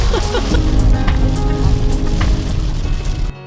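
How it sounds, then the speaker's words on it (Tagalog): Rain pattering steadily on a surface outdoors in Reno, Nevada, a close continuous wash of drops that cuts off abruptly near the end. "It's raining here."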